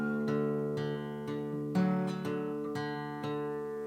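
Fingerpicked acoustic guitar playing the intro pattern of a song, with individual plucked notes ringing over sustained chord tones in a steady, gentle rhythm; close and clear, with no voice.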